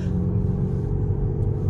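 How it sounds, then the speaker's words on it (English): Lamborghini Urus exhaust rumbling steadily at close range, a deep, even low-frequency drone that holds constant without any sharp revs, with no talk over it. "don't you want your exhaust to sound like that?"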